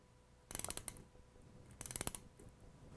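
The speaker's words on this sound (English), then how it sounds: "let's begin tightening the jacking bolts to pull the rotating assembly away from the volute" Jacking bolts on the rotating assembly of a Gorman-Rupp T2 pump being tightened with a ratchet wrench: two short bursts of rapid ratcheting clicks, close and crisp against a quiet background.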